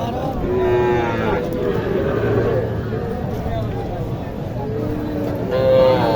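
Young native bull calves at a cattle market in Naogaon, Bangladesh low and moo several times close by, drawn-out calls rising over crowd noise and chatter.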